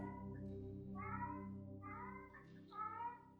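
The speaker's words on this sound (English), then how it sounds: "If you can hear my cat outside, you know that he sounds like he's dying." A house cat meows repeatedly from outside a shut door, four drawn-out, plaintive cries in sequence, muffled and moderately distant.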